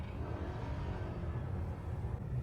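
Low, steady hum and rumble from a stopped driverless taxi in San Francisco, heard from inside the car as a constant faint drone with no talking.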